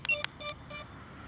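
A series of short electronic beeps from a DJI Avata 2 drone's ESC beeping alarm, three quick tones in a row, fairly faint against a quiet background.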